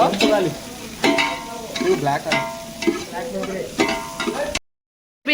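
Ingredients stirred and mixed in a frying pan, a spatula scraping in repeated strokes over a steady sizzle, close and fairly loud before cutting to silence near the end.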